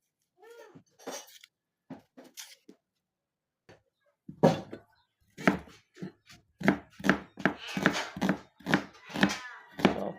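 Onions are chopped into fine cubes on a cutting board, sparse knife taps at first, then a quicker run of sharp, close chops in an uneven rhythm.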